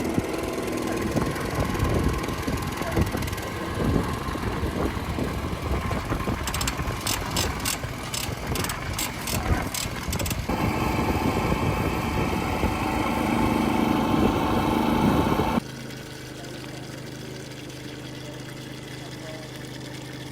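An autonomous agricultural spraying drone flies over a farm field with a loud, steady whirring buzz of propellers and motors close by, before the sound abruptly drops to a quieter hum.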